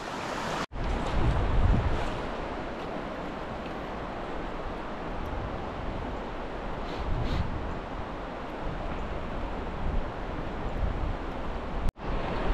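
Water rushing over shallow riffles on the Lehigh River near Jim Thorpe, Pennsylvania, a steady broadband wash with gusty wind buffeting the microphone, continuous and fairly close with no talking.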